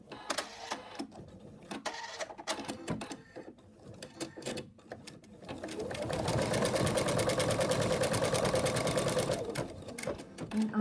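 An embroidery machine stitching out a placement line for an appliqué, sounding at first as intermittent taps and short bursts, then settling into a loud, steady, rapid mechanical rattle of needle strokes that runs for several seconds before easing off.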